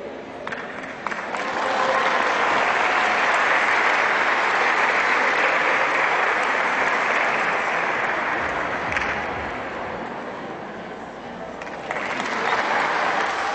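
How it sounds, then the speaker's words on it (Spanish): Audience at a regional senior citizens' queen pageant breaks into loud, sustained applause that swells to a full roar, dips slightly, then surges again near the end. "Que se escuche el aplauso para María Guadalupe Bueno Cortés"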